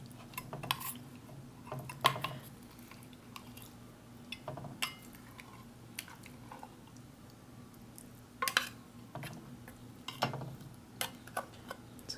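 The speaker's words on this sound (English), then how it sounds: "And then our tin of cooked lean pork. Let's see how this came out." Cooked lean pork being scooped out of a tin from a Spanish individual combat ration: sporadic metallic clinks and scrapes with soft squishy sounds, close and fairly quiet, no voices.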